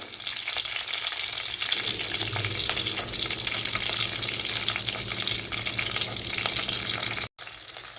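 Dried chillies sautéed in a little oil in a pan for a crushed chilli thecha, giving a loud, steady sizzle and crackle with a few stirring scrapes, briefly cut off near the end.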